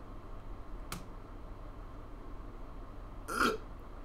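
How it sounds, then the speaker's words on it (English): A short distorted burp near the end, preceded by a brief click, over a quiet noisy background hum. "Even my burp sound fucking distorted, bro."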